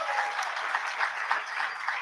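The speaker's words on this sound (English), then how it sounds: "go ahead and clap for that" A union convention audience in Texas claps together, a brief, moderately distant round of steady applause with no voices over it.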